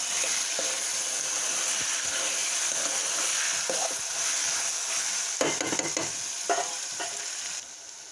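Bottle gourd curry fries in a pan with a continuous moderate sizzle, broken by several scraping stirs of a spoon against the pan, no voices.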